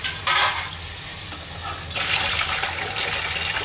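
Spices sizzle and are stirred in a pan with pointed gourd and potato, a loud hissing that swells in bursts over a steady sizzle, with scraping in between.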